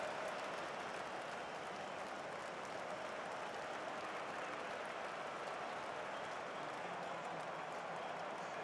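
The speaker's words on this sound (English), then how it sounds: "Even the home fans here in Sao Paulo are applauding." A stadium crowd in a soccer simulation game applauds the home side's championship in Sao Paulo, a faint, steady wash of clapping and crowd noise.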